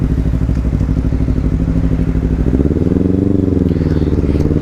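Kawasaki Z300 motorcycle engine ridden at low revs, a steady close putter with a rising and falling pitch as the rider eases along, loud throughout with a faint voice over it.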